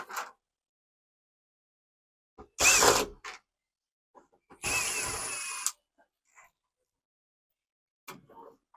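Plastic trim panels being pried and pulled from the interior of a 1983 Chevy Blazer, with two loud bursts of scraping, clicking and creaking separated by quiet gaps and a few small knocks.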